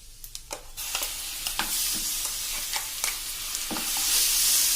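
Onion chutney masala paste with Kashmiri red chili sizzles loudly in a pan, with a constant hiss broken by repeated scraping stirs of a spoon, close up and without talk.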